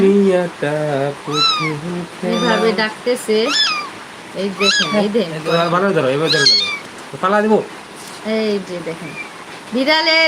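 A cat meows again and again at close range, its cries rising and falling in quick bursts, with a person talking at the same time.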